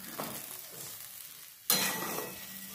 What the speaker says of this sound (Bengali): এবার এটা একটু ভালো করে কষাতে হবে,